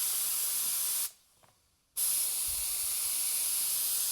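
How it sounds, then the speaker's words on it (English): Air hisses steadily out of the relief hole of a wide carbon gravel wheel rim as a compressor inflates it, a loud constant rush that cuts out for about a second and then resumes just as strongly. "I'm getting air out of the relief hole here."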